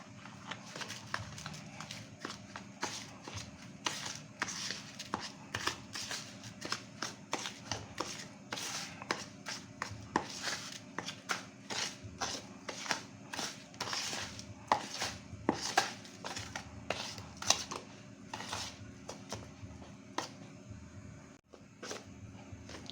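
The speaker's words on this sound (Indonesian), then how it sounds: "Kita aduk biasa secara merata." Homemade dish soap mixture being stirred evenly in a container, a quiet, steady series of soft rhythmic scraping and sloshing strokes close by, with no talk.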